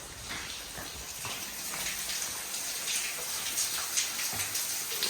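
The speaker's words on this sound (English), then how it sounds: "I hear water." Water trickling and spraying from leaking pipe connections at a construction site, a faint, steady hiss and patter that continues throughout.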